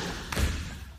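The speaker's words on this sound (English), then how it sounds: "I'm going to slap your shoulder a few times." A hand gives a single dull slap against a person's shoulder during a martial arts demonstration, a short thud over a steady background hiss.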